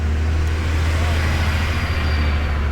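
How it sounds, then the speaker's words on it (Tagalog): A truck approaching on a road at a scenic Black Forest viewpoint, a loud continuous low rumble close by that holds steady throughout. "Medyo maingay kasi may truck na darating."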